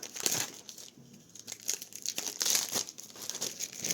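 Plastic wrapping crinkles and tears as it is peeled off Heroclix DC miniature game pieces, a close, irregular run of crackling rustles with brief louder crunches, and no one speaking.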